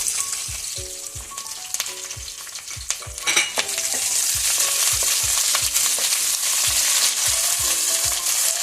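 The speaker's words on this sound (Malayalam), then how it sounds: "എണ്ണ ചൂടായി കഴിയുമ്പോൾ നമുക്ക് ഉള്ളി, വെളുത്തുള്ളി, കറിവേപ്പില ഇത്രയും സാധനങ്ങളിട്ട് മൂപ്പിച്ചെടുക്കാം." Shallots, garlic and curry leaves fry in hot oil in a pan, a steady loud sizzle broken by regular scraping taps of a spoon stirring, growing denser and louder partway through.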